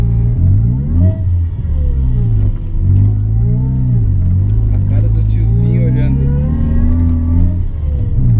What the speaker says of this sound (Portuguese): você ouve mais o supercharger agindo do que o escapamento